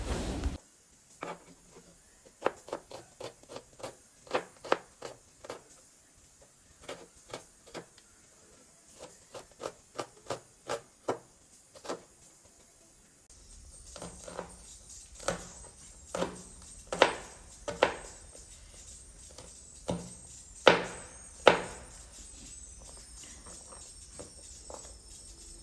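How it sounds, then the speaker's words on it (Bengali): A knife chops onions and green chilies on a board for a spicy chickpea-and-potato dish: quick bursts of crisp, close taps separated by short pauses, with a faint steady hum entering halfway through and no speech. "ছোলা আলু সেদ্ধ দিয়ে রান্নার জন্য কেটে নিচ্ছি পেঁয়াজ ও মরিচ"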